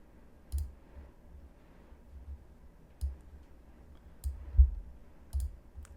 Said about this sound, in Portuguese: Deixa eu abrir ele com o botão direito